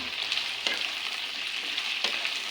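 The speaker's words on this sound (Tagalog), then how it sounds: "Pinipirito na po natin yung talong." Eggplant (talong) frying in oil in a pan crackles and sizzles steadily up close, with a couple of sharper spatters breaking through the continuous hiss.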